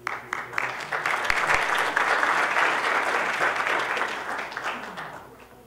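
Audience at a water funds conference session giving a speaker a loud, sustained round of applause that swells, holds, then gradually fades toward the end.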